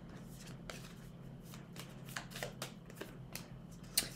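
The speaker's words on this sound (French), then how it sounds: "Allez, je tire 6 cartes astrologiques." Astrology cards being shuffled and drawn by hand, a run of quick riffling flicks and soft slaps, close and fairly quiet, with a sharp snap near the end and no voice.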